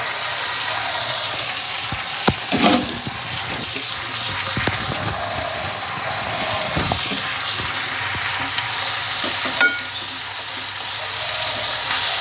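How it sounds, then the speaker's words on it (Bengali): Washed, chopped Malabar spinach leaves frying in a pan with fish head, a loud steady sizzle with scattered clanks and scraping stirs, close and continuous, no voices. "এবার পুঁই শাকের পাতাগুলো দিয়ে দেবো"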